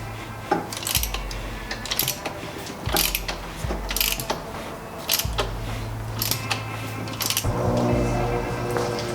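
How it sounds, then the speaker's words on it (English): A ratchet clicks in repeated quick bursts, close up, as it turns over a single-cam BMW E30 engine by hand to verify cam timing, with heavier clunks from the crank between pulls and no talking. "So I'll just rotate it now just to verify the timing."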